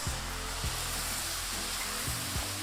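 Cream poured into hot browned flour in a pan sizzles loudly and steadily, with bubbling pops and a broad hiss running throughout, no voices.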